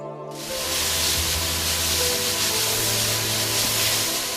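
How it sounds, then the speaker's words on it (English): A strong, continuous spray of pesticide over grape vineyards in Nashik, India hisses loudly after a brief quiet start, with a low engine-like hum running underneath. "It is pesticides being sprayed on grape vineyards in Nasik."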